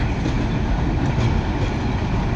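A passenger train runs from Joydebpur station toward Kamalapur in Dhaka in the afternoon, with a loud, steady rumble and clatter of wheels on rails heard close up.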